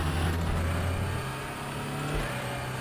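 Audi R18 LMP1 prototype race car in RaceRoom Racing Experience at Sepang, its engine a steady low drone with a brief dip, running continuously without speech.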